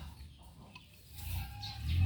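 Chickens clucking in a farmyard, a soft irregular cackle of several hens that grows louder toward the end over low background rumble.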